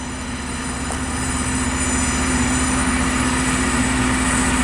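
A Loram rail grinding train rolls on the tracks with a steady, loud mechanical drone and a rumble under high whining tones, continuous and unchanging throughout.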